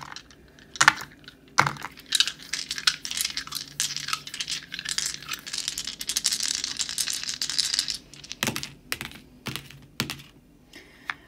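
Five dice rolled for a tarot and charms pick-a-card reading clatter and rattle together in a close, busy burst of sharp clicks and tumbling knocks, with a few isolated taps trailing off afterward and no talking.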